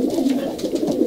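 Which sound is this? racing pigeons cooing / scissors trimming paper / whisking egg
racing pigeons cooing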